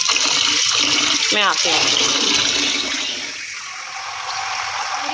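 Rice for kheer being washed in water: a loud, steady splashing and pouring rush close by, with someone speaking briefly over it before the water sound eases off.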